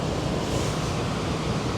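River water rushing in Yosemite Valley, a steady loud broadband roar with no pauses and no voices.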